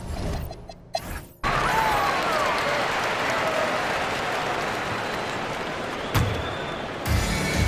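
Arena crowd in the NBA 2K26 basketball video game roars and applauds steadily, a dense sustained wash of cheering that swells in after a brief quieter opening and holds loud to the end.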